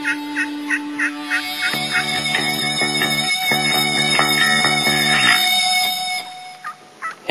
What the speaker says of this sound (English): And as Keith and Corey play a little dueling banjos on some Woodhaven calls, the big bird commits.